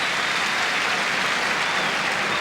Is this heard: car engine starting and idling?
no